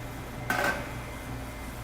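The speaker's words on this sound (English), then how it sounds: "I'm gonna put the top on just real quick just to let it warm up for a minute" A metal lid is set on a cooking pot of warming milk for polenta casserole, one short close clink with a faint ringing tail over quiet room hum.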